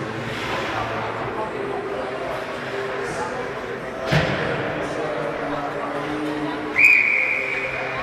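Referee's whistle at a varsity lacrosse game, a single sharp shrill blast near the end, sounding over steady crowd noise and continuous play-by-play commentary.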